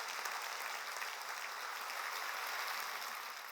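A church congregation claps together in a steady, dense wash of applause during a Korean sermon, sustained and even, fading slightly at the end.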